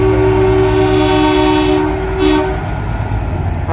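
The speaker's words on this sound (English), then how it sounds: "The ground shakes when they honk" Semi trucks in a night parade convoy at a truck show blast loud air horns in a long sustained chord that cuts off partway, with a low rumbling engine bed continuing underneath.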